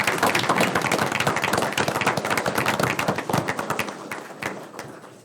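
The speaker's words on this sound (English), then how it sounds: "This is when you get the clap." Audience applause at a township council meeting, with dense, loud clapping from a room full of people that fades toward the end.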